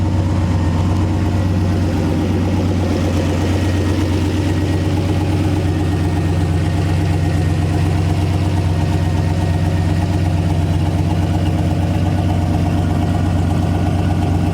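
A Nissan engine fitted with Snake Eater Performance 210lb injectors idles on pump gas in cold weather. It runs loud and close with a steady, slightly lumpy low rumble throughout.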